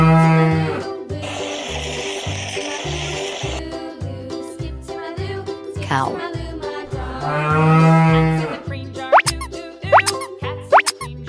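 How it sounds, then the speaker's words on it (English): Cartoon-style cow moos from a children's farm-animal learning song, with two long drawn-out moos over a bouncy beat of rhythmic plops and boings. "Cow."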